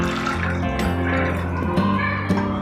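Water pours into a glass over sugar syrup for a Kerala kulukki sarbath, a close, splashing, trickling stream with a few drips, short and fairly loud.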